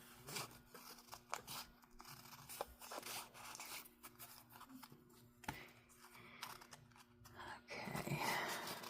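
Scissors snip through paper scraps while narrow strips are trimmed for junk journal notebooks, with several short, quiet cuts and rustles spread unevenly and a slightly louder crunchy stretch at the end.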